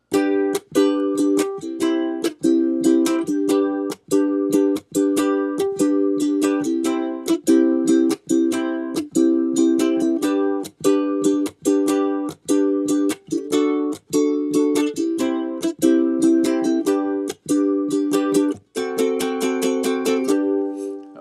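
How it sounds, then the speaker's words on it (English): A ukulele is strummed in a steady repeating rhythm of chords, bright and close, with brief pauses between phrases and no voices. "our rhythm, our strumming pattern for today is going to sound like this."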